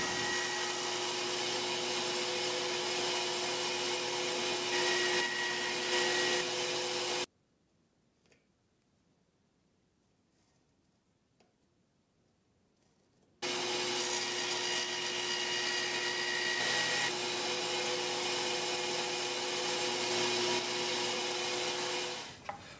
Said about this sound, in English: I'll go ahead and cut this piece out on the bandsaw